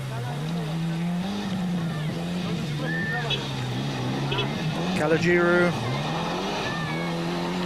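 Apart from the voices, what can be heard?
Mitsubishi Galant rally car driving on dusty special stage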